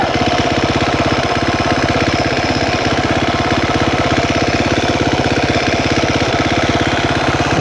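A KTM 350 motorcycle engine idles high with a loud, close, steady rapid thumping that holds unchanged throughout, with no talking.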